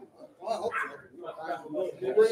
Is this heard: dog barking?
yes